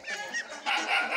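Chickens on a village farm in Pakistan cluck in two short, close bursts, moderately loud with a brief gap between them.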